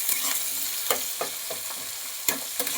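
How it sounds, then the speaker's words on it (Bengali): Garlic paste sizzles steadily in a hot pan while a utensil stirs it, with a continuous hiss broken by several sharp scraping strokes. "এবার একটুখানি ভালো করে ভাজা করে নিতে হবে।"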